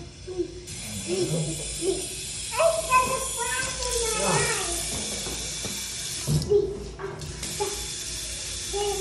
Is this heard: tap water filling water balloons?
yes